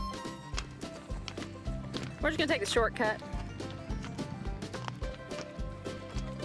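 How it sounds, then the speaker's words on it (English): Horses walk over rocky ground in the Big Bend desert of the Southwest, their hooves clip-clopping in a steady uneven rhythm close by while a person talks briefly over them. "There's something about being on the back of a horse in the middle of the Great Southwest."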